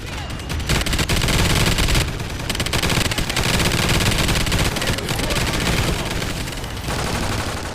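Dense, loud automatic gunfire in the Call of Duty Ghosts Extinction co-op alien mode, including a death machine firing incendiary ammo, with continuous rapid bursts and brief pauses, in the foreground.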